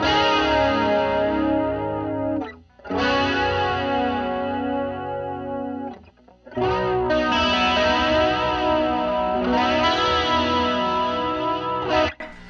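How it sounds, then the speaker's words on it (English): Electric guitar chords ringing through a shimmering chorus effect, three sustained phrases separated by brief pauses, close and loud. "it's just adding a little bit of delay to the sound with a little bit of pitch shifting"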